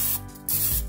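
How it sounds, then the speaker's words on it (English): Cooking spray hisses into a crock pot in two short bursts, close and loud, with a brief pause between them. "Just gonna give my crock pot a little spray here."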